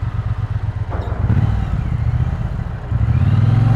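A 2020 Triumph Bonneville T120 or T100 motorcycle ridden on the road, its twin-cylinder engine a loud, close, steady rumble with throttle rising toward the end, mixed with wind noise and no speech.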